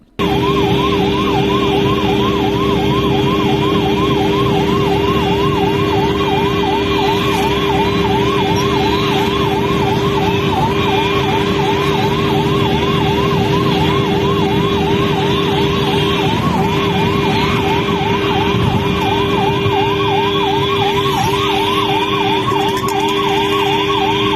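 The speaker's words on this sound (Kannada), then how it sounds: "ರೋಗಿಯನ್ನ ತುರ್ತಾಗಿ ಆಸ್ಪತ್ರೆಗೆ ದಾಖಲಿಸಬೇಕಿದ್ದ ಕಾರಣ ಆಂಬ್ಯುಲೆನ್ಸ್ ಸೈರನ್ ಹಾಕುತ್ತಲೇ ಸಾಗಿತ್ತು" An ambulance rushing a patient to hospital on a road in Uttara Kannada, its siren wailing loudly and continuously in a fast rising-falling cycle over engine and road noise.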